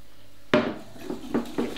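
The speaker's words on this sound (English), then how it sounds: "Give it a whisk together." A whisk or spoon clinks against a bowl as soft brown sugar is mixed with boiling water into a syrup for a slow cooker chocolate pudding, a sharp first knock then several lighter rhythmic taps.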